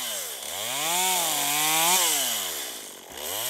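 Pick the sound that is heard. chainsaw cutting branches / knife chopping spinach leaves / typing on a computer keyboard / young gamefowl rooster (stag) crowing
chainsaw cutting branches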